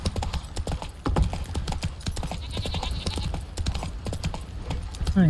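Horse hooves clip-clop in a quick, steady rhythm from a ridden horse in The Witcher 3 video game, close and continuous, with someone speaking briefly over the hoofbeats.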